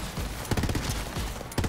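Rapid bursts of enemy gunfire in Borderlands 3 crackle at a moderate distance, with clustered volleys separated by short gaps.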